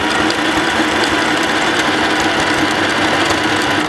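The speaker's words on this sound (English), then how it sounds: "And you're stitching zigzag." A sewing machine stitches a zigzag seam along the ribbed edge of a stretchy t-shirt fabric, a steady close mechanical whirr with rapid ticking that runs without a break throughout.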